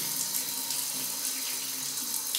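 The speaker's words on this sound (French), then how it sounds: "De l'eau chaude, pas dans la douche, ou tiède, là elle est bien chaude" Hot water gushes from a tap into a sink in Agadir, Morocco, a steady close rushing splash that continues unbroken throughout with no voices over it.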